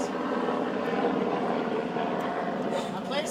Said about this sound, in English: A place guarded by helicopters.